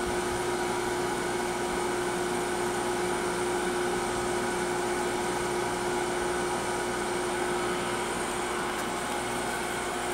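Tormach surface grinder running over a 4140 steel part coated in Dykem: a loud, steady whirring drone with a constant tonal hum that persists unchanged throughout. No speech.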